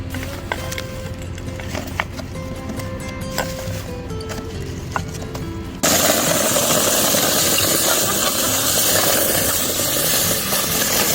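Air compressor blowing a strong hiss of air across garlic cloves to strip the skins, a loud continuous rush that starts about halfway through after a quieter stretch of machine hum and clicks.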